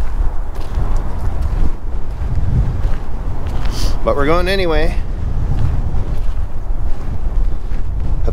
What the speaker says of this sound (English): I'm sure you can hear it is really windy up here.